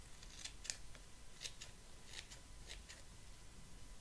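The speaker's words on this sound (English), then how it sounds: "I'm going to use my scissors as a line, and I'm going to just trim up" Scissors trimming hair up close, a series of faint, crisp snips at an irregular pace over quiet background.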